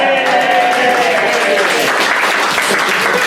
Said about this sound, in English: It's a lovely feeling as a stand-up when they're not clapping you telling a joke, just getting the sentence correct.